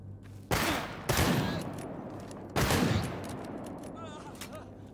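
Gunfire in the video game Stalker GAMMA: two loud, sharp bursts of shots close by, the first with a quick follow-up, each trailing into a noisy decay over a steady background rumble.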